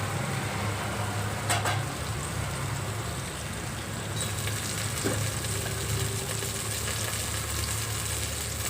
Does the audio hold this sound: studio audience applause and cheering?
no